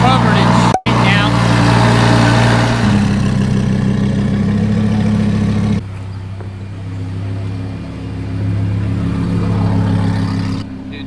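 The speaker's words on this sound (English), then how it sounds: "All right, let's give you guys a cold start." A straight-piped Lamborghini Huracan makes a cold start. The exhaust holds a loud, close, steady drone rich in low harmonics, cuts out for a moment near the start, then settles into a slightly quieter idle that swells and fades.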